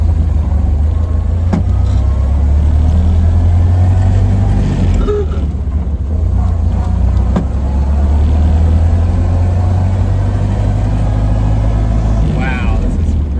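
A Ford Model A engine running with a newly fitted carburetor while the car is driven, a steady low loud drone throughout with faint wind and road noise, brief clicks, and someone talking over it.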